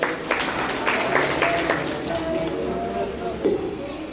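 An audience claps to welcome a guest at an Ambedkar Jayanti awareness gathering, a short burst of scattered hand claps under a voice speaking over a public address.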